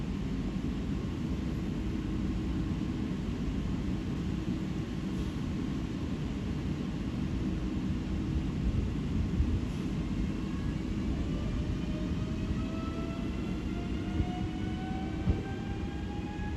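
A Newag Impuls electric train pulls away toward Piotrowice at Katowice Ligota in the evening, a steady rumbling roll with rising motor whine tones, continuous and moderately near with no voices.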